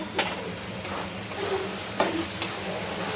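Green chilies and chopped garlic sizzle and fry in a pan for a Maharashtrian akkha masoor dish, a steady hiss with a few sharp stirring clicks and scrapes.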